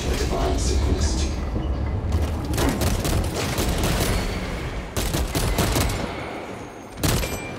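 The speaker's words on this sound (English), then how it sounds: "I'm not liking the acid shooting." Alien monsters in Warhammer 40K Space Marine 2 spray acid in a loud, dense barrage of rushing, crackling bursts, with sharper blasts around the middle and near the end over a constant rumbling din.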